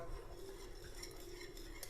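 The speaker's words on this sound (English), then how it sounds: "Just turn it off, give it a quick stir" Hot cream is stirred in a pan on the stove for crème brûlée, giving a soft, steady scraping and swishing that runs evenly with no voices.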